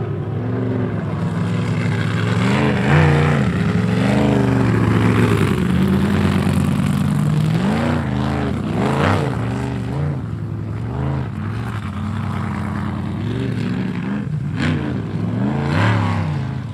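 Jet sprint race boats roar off the start and accelerate at a 2023 ESP event, their loud engines revving and wavering in repeated surges for the whole stretch, with no voices heard.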